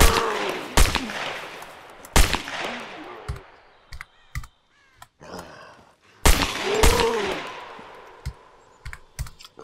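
Rifle shots from sniping in the video game Scum ring out as a few loud, sharp cracks with long decaying tails, spaced seconds apart, interleaved with quick clicking of a keyboard and mouse close by.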